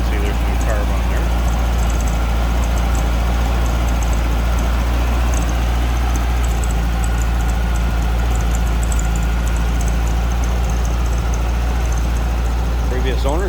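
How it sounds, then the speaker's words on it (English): A 1974 VW Super Beetle's 1600cc air-cooled engine idles with a steady, low, loud throb, and a voice talks over it throughout. "1600cc air-cooled engine."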